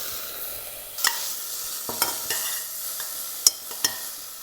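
Bacon lardons and broccoli tossed in a little olive oil in a pan, giving a steady quiet sizzle broken by a few sharp scrapes and clacks of stirring, close by with no talking.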